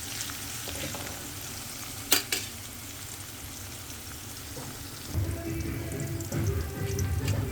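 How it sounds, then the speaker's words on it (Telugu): Green chillies, onion and curry leaves with salt frying in a pan, a continuous close sizzle and bubbling with a couple of clinks, then a louder, fuller crackle toward the end, no voices. "మిర్చి, ఉల్లిగడ్డలు అయితే ఫ్రై అయిపోయాయి"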